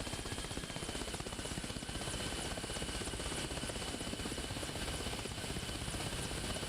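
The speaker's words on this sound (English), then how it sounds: "Just rotating the heli." A helicopter in the Arma Reforger video game hovers during a landing approach, its rotor chop a constant dense thrum with steady rapid beating, loud and close with no voices.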